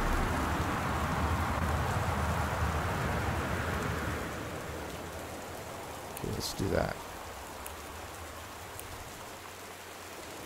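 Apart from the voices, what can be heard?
rain in a video game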